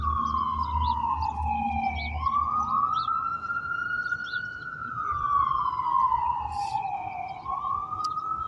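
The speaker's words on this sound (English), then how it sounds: "We have a siren in the background." A wailing siren rises and falls in long sweeping tones, steady and fairly loud, with traffic rumble underneath.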